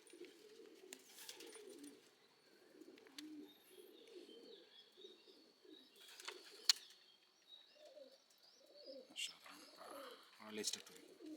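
Madrasi pigeons coo softly in repeated low, throaty bursts, fairly near but faint, with occasional flutters and scuffs; a person talks at times in the background.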